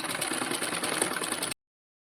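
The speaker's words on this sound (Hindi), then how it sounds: "यहाँ पर हम डबल सिलाई लगा देंगे जिससे हमारे ब्लाउज मजबूत हो जाए सिलाई से।" A sewing machine runs briskly while stitching a double seam on a blouse sleeve, a close, rapid mechanical whirring and rattling that stops abruptly after about a second and a half.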